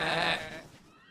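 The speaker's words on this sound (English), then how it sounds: "Thank you, sheep, for playing with Woofie and wearing him out" A cartoon sheep gives one short, loud bleat, near and clear, that fades quickly with no voices over it.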